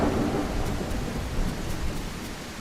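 Thunderstorm in The Isle, a dense steady roar of heavy rain with low rumbling thunder, loud and continuous throughout with no voices.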